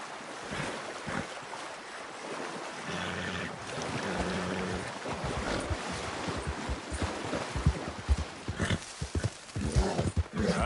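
A horse's hooves pound in a fast gallop in Red Dead Redemption 2, a loud rhythmic drumming with breathing and snorts over a wash of outdoor ambience, growing punchier toward the end.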